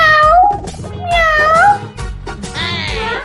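A person in a comedy skit imitates a cat, voicing three loud, wavering meows with rising and falling pitch over light background noise.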